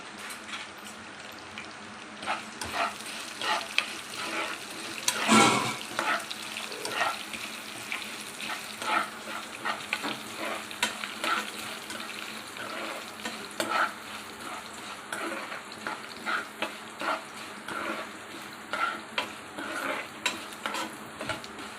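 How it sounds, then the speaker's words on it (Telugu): Coriander seeds, cumin and fenugreek fry in a pan for Andhra-style gongura pachadi, giving a steady close sizzle broken by scraping stir strokes and one louder clatter partway through; no one speaks. "రెండు స్పూన్ ధనియాలు, 1 స్పూన్ జీలకర్ర అండి. ఒక పావు స్పూన్ మెంతులండి వేసి ఫ్రై చేసుకోవాలి"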